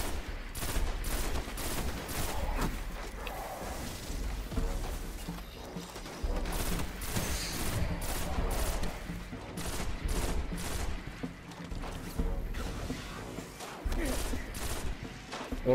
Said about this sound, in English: I'm gonna take a shot at this guy.